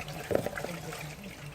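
A wet foam air filter from a KTM or Husqvarna 350 is squeezed by hand, giving soft squelches and trickling liquid close up.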